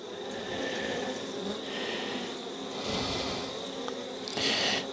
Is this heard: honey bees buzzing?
yes